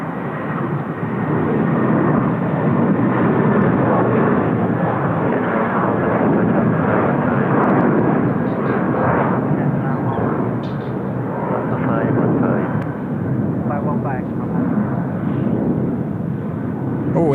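Heavy airliners arriving on runway 34L at Seoul Incheon Airport fill the air with a loud, sustained broadband engine roar that holds steady for the whole stretch, with no clear voices over it.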